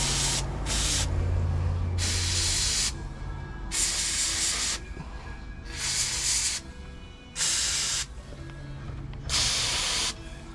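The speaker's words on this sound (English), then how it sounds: "let's hit them with a little bit of freeze off here" Repeated bursts of Freeze Off penetrating aerosol spray hissing, roughly six short blasts of varying length separated by brief pauses, close and loud over low background noise.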